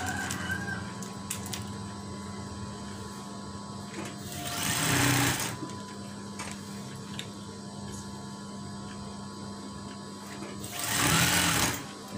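A sewing machine stitches a wave-style curtain, its steady motor whir running throughout, with two louder swells of fast stitching and a rooster crowing in the background.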